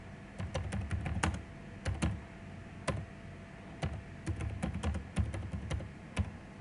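Keys clack in irregular bursts and short pauses as someone types a description on a computer keyboard, soft clicks close by over a quiet room hum with no voices.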